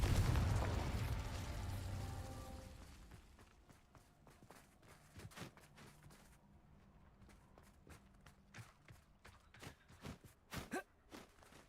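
A fiery Confringo spell explodes in the video game Hogwarts Legacy with a loud rumbling blast that fades over a few seconds, followed by quiet footsteps and scattered soft impacts.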